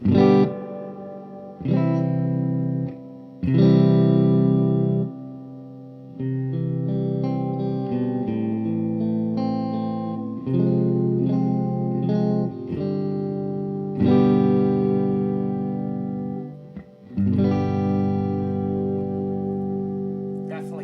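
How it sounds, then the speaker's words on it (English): Electric guitar chords ring out through a modded Crate V18 amp drenched in spring reverb, each strum decaying with a washy, splashy tail, loud and close. "Let's see if we got rid of some of the springiness on the reverb"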